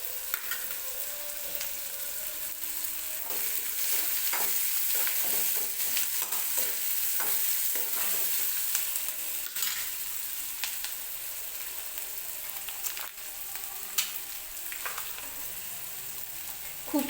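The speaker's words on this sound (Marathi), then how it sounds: "मी पनीरसुद्धा थोडंसं फ्राय करून घेणार आहे तेलामध्ये. तर मी छोटीवाली कढई ठेवलेली आहे दुसरी." Paneer fries in a little oil in a small kadai until golden brown, giving a steady, close, continuous sizzle with soft crackles and occasional stirring scrapes. No one speaks.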